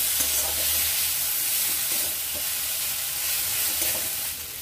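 Spices and soaked peas fried and stirred in a pan for a potato-and-pea ghugni, a continuous loud sizzle with a low steady rumble beneath and occasional stirring scrapes, easing slightly at the end.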